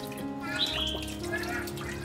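Water pours into a newly built glass aquarium tank after salt has been added to clear the glue smell, a steady running, splashing wash with light dripping close by.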